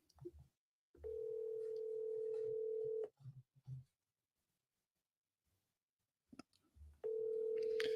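A telephone gives a steady dial tone in two long stretches of about two seconds each while a call is redialed, with brief handling clicks and short keypad beeps between them, all heard close with no speech.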